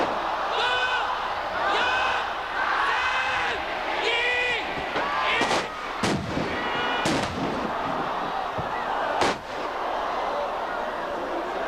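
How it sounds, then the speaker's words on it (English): A barbed wire ring explodes during the Atsushi Onita vs. Hayabusa exploding barbed wire deathmatch, heard as several loud, sharp blasts breaking through continuous crowd noise and commentary voices. "Hayabusa's right in the middle of the ring actually exploding"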